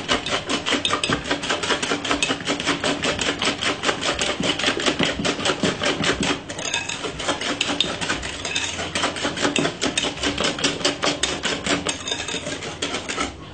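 A hand whisk beating fruit cake batter for a Jamaican wedding cake, with fast, even metallic clicking and scraping against the bowl that continues without a break from start to finish.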